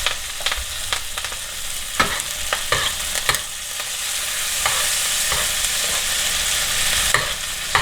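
Beef steak frying in butter in a pan over lowered heat: a steady, close sizzle with occasional sharp scrapes and clicks from stirring or turning, and no voices.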